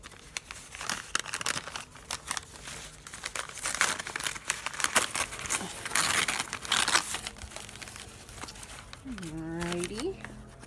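Paper wrapping from a mail-order orchid shipment is unwrapped and crumpled close by in loud, continuous crinkling bursts, with a person talking over it and a brief tearing at the end.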